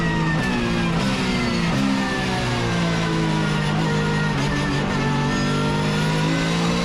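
A Porsche race car at Zandvoort circuit accelerates hard on the throttle, its engine roaring loud and close with steady rising revs that hold strong throughout, no voices over it.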